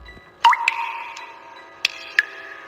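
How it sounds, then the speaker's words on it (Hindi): Water drips from a ceiling inside a cold, old building, a few distinct plinks with a ringing, echoing tail, sparse and close, with no voices. "छत से पानी टपक रहा था।"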